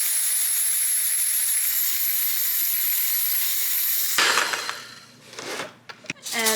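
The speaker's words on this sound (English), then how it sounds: "we get a cream, which is just whisking it with a hand mixer" An electric hand mixer whisks cream for Halloween cupcakes, giving a steady high whir for about four seconds before it stops, leaving clatter and handling noises.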